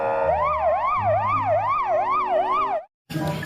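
A toy police car's electronic siren wails in fast, regular up-and-down sweeps, loud and close, cuts out briefly near the end, then a burst of noise follows.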